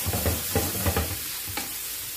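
Chopped tomato sautéing on a tawa for tawa chicken: close sizzling broken by a quick run of rhythmic spatula scrapes and stirs, then a single later stroke.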